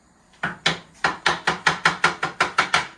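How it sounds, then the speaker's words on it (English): Steady knife chopping of mushrooms on a cutting board, about ten crisp, evenly spaced chops in quick rhythm, close and clear with no talking. "I'm chopping my mushrooms now"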